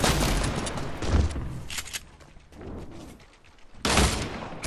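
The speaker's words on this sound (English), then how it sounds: "there's so many on me right now, and they're shooting me and stuff" Gunfire in the Fortnite video game, bursts of loud shots and booms at the start and again near the end, with a quieter stretch between.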